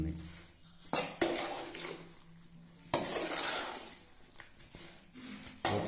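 A ladle scrapes and clinks against a metal pot as mango pickle is mixed, with repeated close knocks and scraping strokes, no talking.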